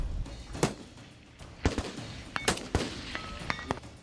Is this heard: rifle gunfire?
yes